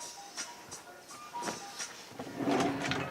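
A drawer is opened and shut while clothes are being packed, giving a few soft sliding scrapes and knocks. A louder shuffling rustle of fabric follows. It is close and fairly quiet, with no talking.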